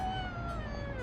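A cat in the PS1 horror game Yuuyami Doori Tankentai gives a single short, clear meow, drawn out and slightly falling in pitch, alone and fairly quiet.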